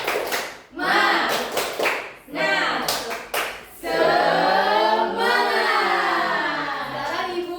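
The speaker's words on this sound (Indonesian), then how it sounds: "Tepuk semangat." A school class does a rhythmic spirit clap, groups of quick hand claps in a patterned beat alternating with loud children's voices chanting together.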